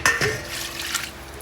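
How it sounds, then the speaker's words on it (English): Brief splash and trickle of water poured into a soup pot while making corn soup, close and fairly quiet, with a light clink near the start. "enough water to cover."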